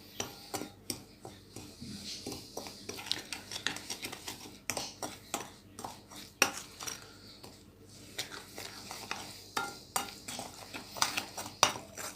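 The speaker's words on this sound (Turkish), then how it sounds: "Ve malzemelerimizi iyice karıştırıyoruz." A utensil stirs cookie dough ingredients mixed with sunflower oil in a bowl, giving repeated scraping and clinking strokes in an uneven rhythm, close and fairly loud, with no one talking.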